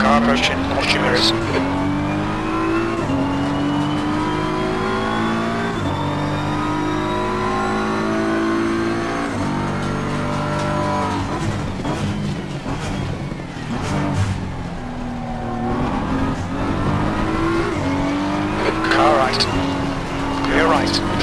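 A BMW M4 GT3 race car howls around Kyalami in Assetto Corsa Competizione, its engine repeatedly revving up and dropping through gear changes, loud and continuous, with another car closing in.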